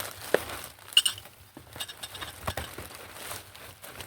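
A glass item is handled alone, giving a few sharp clinks and light taps among scattered soft handling noises.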